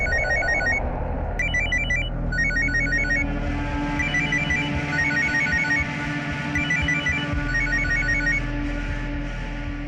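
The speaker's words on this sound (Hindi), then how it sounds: "आरती फोन नहीं उठा रही है" A phone ringtone plays repeated electronic trill bursts in a regular pattern over a steady low hum, loud and close, ringing on with no answer and no talk.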